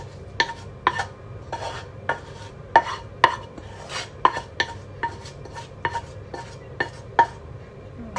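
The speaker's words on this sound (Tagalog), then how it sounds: "Pwede na natin siyang ihalo dito sa ating giniling." Utensil repeatedly clinks against a bowl or pan while cooked onion and garlic are mixed into ground meat for hambagu patties, a dozen sharp scraping taps at an uneven rhythm, close and fairly loud with a faint low hum beneath.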